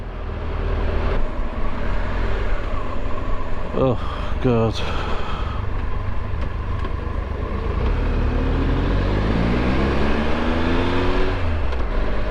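A large car driving past on a road, its engine rumbling and revving closely as it goes by, with someone talking over it.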